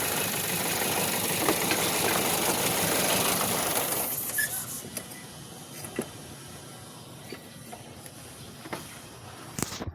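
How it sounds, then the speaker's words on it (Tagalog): A Toyota Vios engine idles roughly with a misfire, first as a loud, dense mechanical clatter, then dropping to a quieter, uneven idle broken by sharp irregular knocks. "Yung palya ito mga idol, grabing palya."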